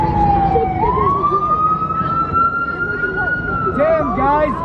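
Loud ambulance siren wailing close by at a police clearing of Cal Anderson Park in Seattle, its rising and falling tone sweeping steadily over crowd noise and chatter, with a second siren warble joining near the end.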